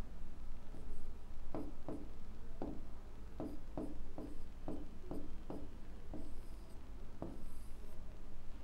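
Chalk or marker tapping and scraping on a board during an accounts lesson, a series of short, crisp strokes in irregular bursts against a quiet room hum, close and moderately faint.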